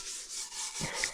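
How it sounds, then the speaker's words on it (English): Thick rust loosened with salt and vinegar is scrubbed off a metal surface, a close, steady rough rubbing that swells and fades in broad strokes, with a brief duller knock near the end. "the salt and the vinegar did loosen some of the rust, but it's just so thick that I keep scrubbing and scrubbing and scrubbing"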